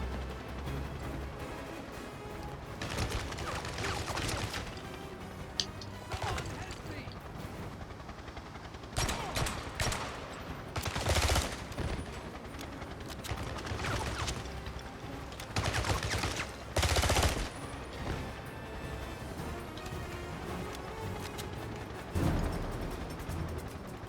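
Walther pistol shots ring out in the James Bond 007: Blood Stone video game, scattered gunfire and mechanical clatter over a dense, busy game soundscape with ongoing background noise throughout.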